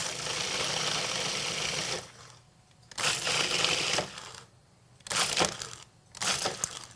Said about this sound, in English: I'm just going to process all these dry ingredients first before I add the butter